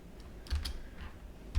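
Keys on a computer keyboard clatter in a few soft, quick clusters of taps against a quiet room background, close by with no talking.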